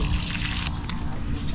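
Water is poured into a container in a steady, close trickle for about a second and a half, with a splash near the start and nobody talking.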